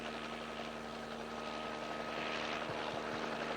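A police helicopter flies overhead with a steady, droning engine and rotor hum, constant and moderately distant with no voices.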